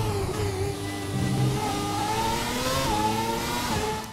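F1 racing car engines rev and whine in the video game F1 2017, a steady high-pitched engine drone with rising pitch sweeps as the cars accelerate, loud and continuous throughout.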